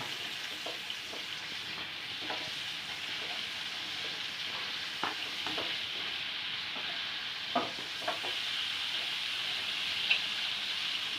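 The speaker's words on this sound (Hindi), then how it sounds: "आपने लहसुन अदरक, नमक, मिर्च इन चीज़ों को डाल देना है। फिर इसको अच्छी तरह से मसाले को भूनने दें।" Masala of garlic, ginger, salt and chili frying in oil, a steady hiss and sizzle with occasional soft stirring scrapes and pops, close and continuous.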